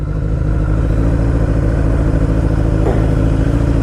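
A 1985 Kawasaki GPZ 900 R motorcycle engine idling in neutral at about 1400 rpm, producing a loud, close, steady low throb with an even rapid pulse and no voices.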